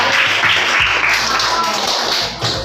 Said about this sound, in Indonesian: Tepuk tangan buat Altair.